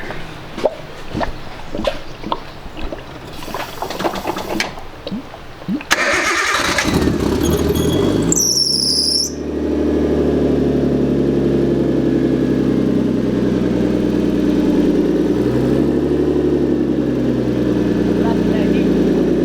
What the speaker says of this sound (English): we'll start the car up